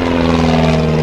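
A propeller aircraft engine drones at an air show, a loud, steady, close hum with a strong constant pitch over the whole short stretch and no talk.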